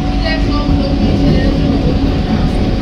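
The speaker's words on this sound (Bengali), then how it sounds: "সেখানে কিন্তু প্রবেশ করছে ট্রেন ইতিমধ্যে।" A Sealdah-Bangaon AC local train pulls into Thakurnagar station, a loud, steady, low rumble of wheels and carriages heard from on board, with no voices.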